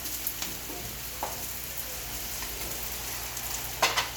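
Garlic frying in a pan for ginataang chicken, a steady soft sizzle with faint crackles and a few small ticks, close and alone without talk.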